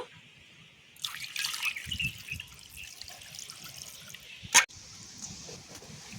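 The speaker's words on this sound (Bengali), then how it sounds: "চিকেনটাকে ভালো করে জল দিয়ে ধুয়ে নেব" Raw chicken for biryani rinsed under water, with trickling and splashing from a tap into a sink, fairly close, and a sharp knock or clatter near the end.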